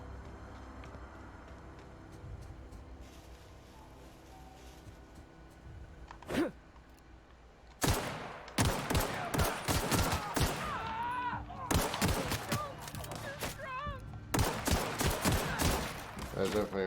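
Loud bursts of gunfire sound out in a Borderlands-style shooter video game, starting with a single shot and then repeated volleys of rapid shots, with a player speaking between them.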